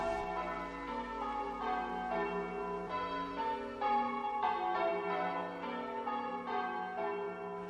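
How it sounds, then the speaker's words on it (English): Lydlinch church bells ring a clear peal, the strikes following one another in a steady rhythm and overlapping into a full, resonant wash with no voices over them. "still Lydlinch bells were good for sound, and liked be all the neighbours round."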